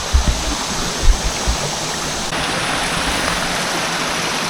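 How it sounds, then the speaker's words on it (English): Small waterfall stream in Shenandoah National Park rushes with a steady, broadband hiss of flowing water, a few low thumps early on, no voices. "so this is the only spot, I guess they're calling this a waterfall."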